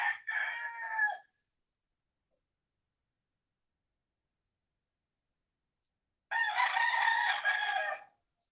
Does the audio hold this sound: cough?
no